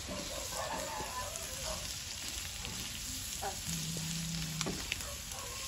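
Fish coated with egg frying in a pan, a steady, even sizzle that runs throughout at low volume, with no voices.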